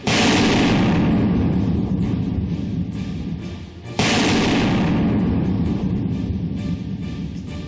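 Two powerful booming landmine explosions during a BSF encounter with Naxalites, one at the start and another midway, each followed by a long rumbling roar that slowly fades, loud and distant.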